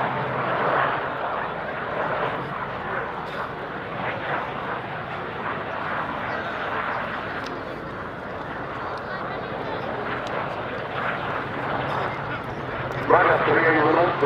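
Twin-engine RAF aircraft at RAF Valley run with a loud, steady broadband engine roar that continues throughout, with a brief higher burst near the end.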